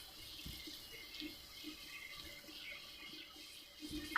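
Saffron-yellow colouring mixed into water poured over layered biryani rice in a home kitchen, a soft, quiet trickling splash with faint drips running steadily throughout.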